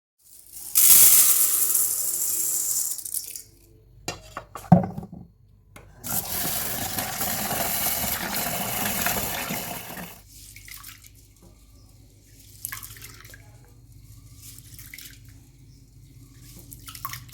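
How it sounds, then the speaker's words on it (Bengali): Water is poured onto household stairs to wash them, a heavy splashing gush at first, then broken spills, trickles and drips that fade into quieter dribbling, nearby and without talk. "এখন শুধু এই সিঁড়িতে জল ঢেলে পরিষ্কার করে দিলেই হয়ে যাবে।"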